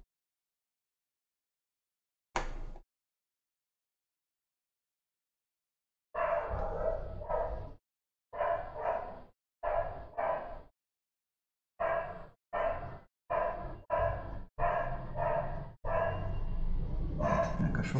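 Several dogs barking in bursts, a single early bark followed by repeated clusters of loud, close barks over several seconds with short pauses between, no talking.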